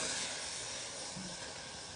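A pressure cooker releasing steam while goat mutton cooks, a steady, fairly faint hiss lasting about two seconds without a break.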